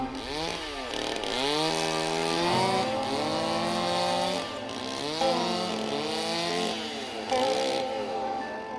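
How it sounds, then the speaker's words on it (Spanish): Several chainsaws carve large ice blocks at the Harbin ice festival, their loud engines revving and dropping in repeated overlapping surges, close and continuous with no voices. "Las motosierras le dan forma a los bloques más grandes"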